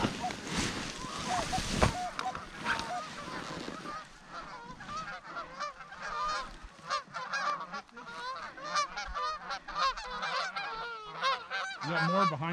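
A big flock of geese honks over and over, loud and close, in a dense chorus of overlapping calls during early goose season in Washington State, with hunters talking quietly in between.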